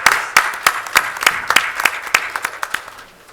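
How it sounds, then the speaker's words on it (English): A small audience at a city council meeting claps about a dozen distinct, fairly loud hand claps in a loose rhythm that slowly fade out. "If we can have an applause for Ms. Garcia and her work on the Farm Worker Breakfast"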